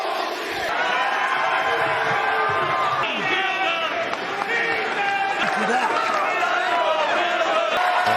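A professional wrestling arena crowd at an AEW Dynamite show reacts in disbelief, a dense roar of many voices with shouts and swelling noise throughout.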